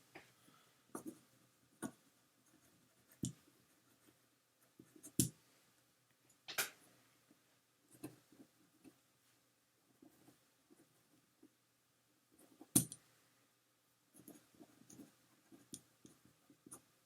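Pen writing out chemistry notes on paper, faint scattered scratches and taps in irregular bursts, quiet and close with no talking.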